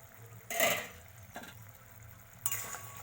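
Masala spice paste for a tilapia curry is stirred while frying in a pan, with three brief scraping bursts and a faint sizzle between them, close and fairly quiet, with no talking.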